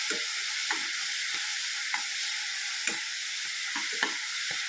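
Sambar cheera greens sautéing with spice powder in a hot pan give off a dense, close sizzle, with soft regular scrapes and taps from a stirring spoon and no voices.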